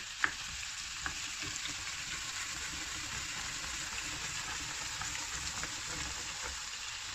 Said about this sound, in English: now I'm going to add in the garlic, chopped garlic